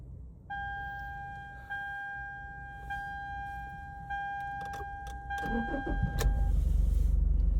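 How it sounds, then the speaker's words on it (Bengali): A car being started up close: a steady electronic warning chime repeats for several seconds, then the starter cranks briefly and the engine catches, settling into a loud low idle. "গাড়ি স্টার্ট দিলাম, এখন আস্তে আস্তে যাব।"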